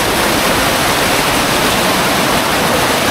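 A strong rushing water current, loud and constant, a close broadband roar with no pauses or voices.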